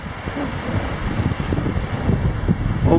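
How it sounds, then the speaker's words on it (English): Strong wind roars steadily across the microphone at a Boundary Waters lakeside campsite in July, a loud, continuous rushing with no pauses. "hope you can hear me over all the wind"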